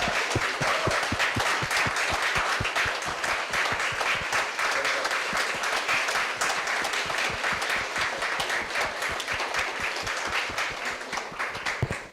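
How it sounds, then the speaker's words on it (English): An audience at an academic theatre-in-pedagogy session gives a sustained round of applause for students, many distinct claps close and steady for about twelve seconds with no talk. "Can we have a big round of applause for our students?"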